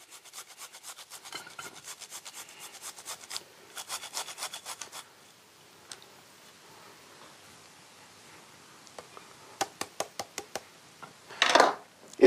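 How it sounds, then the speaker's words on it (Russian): Apples rubbed against a kitchen grater in quick rhythmic strokes, close and fairly quiet, in bursts separated by pauses, with a louder scrape near the end. "Я потру их на терке"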